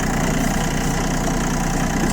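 An ISEKI TA317 Japanese tractor engine runs steadily in reverse, a close, even diesel rumble with a slight knocking texture and no talk.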